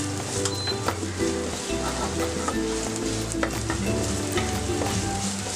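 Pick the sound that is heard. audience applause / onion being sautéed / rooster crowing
onion being sautéed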